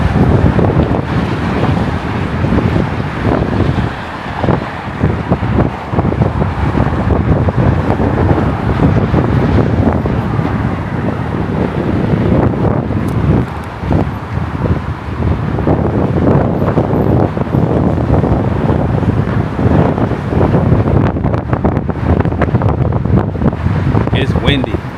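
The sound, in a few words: strong wind on a hotel balcony in Miami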